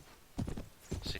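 A horse in the game Mount & Blade (Prophesy of Pendor mod), its hooves clip-clopping in two short bursts with a brief whinny-like cry at the end, fairly near and moderately loud.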